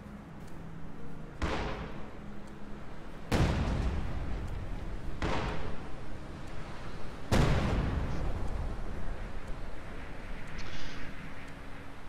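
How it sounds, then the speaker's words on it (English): A high explosive artillery barrage in the Company of Heroes video game, heard as several heavy booming impacts at irregular intervals, each followed by a rumbling decay, over constant battlefield noise. "High explosive barrage forces a retreat from those Volksgrenadiers."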